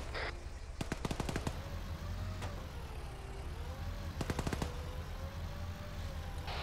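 Two bursts of rapid automatic gunfire in a multiplayer squad-based shooter game, each a quick clustered volley of sharp cracks about three seconds apart, over a steady low rumble of engine or ambient noise.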